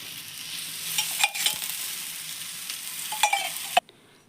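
Thalipattu flatbread frying in a little oil in a pan, a steady close sizzle with a few scraping clicks before it cuts off abruptly.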